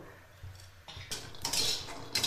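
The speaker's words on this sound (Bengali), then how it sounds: "এখন আমি এর মধ্যে এক মুঠো বাদাম দিয়ে দিলাম বাদামগুলোকে আমি ভেজে নেব" A handful of peanuts goes into a hot wok to roast, heard as a short run of close metallic clattering and rattling that builds into brighter, louder bursts toward the end.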